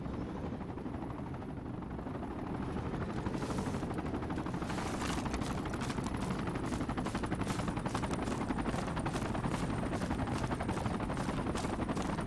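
A helicopter rotor chops loudly and steadily in the Project Reality military game, mixed with dense gunfire and engine roar in a constant wash of battle noise.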